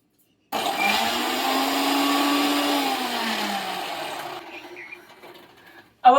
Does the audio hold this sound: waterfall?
no